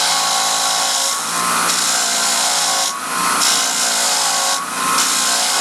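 Continuous loud abrasive scrubbing of a wire brush against rusty nuts and bolts, a steady rasping grind with short pauses every couple of seconds, no voices.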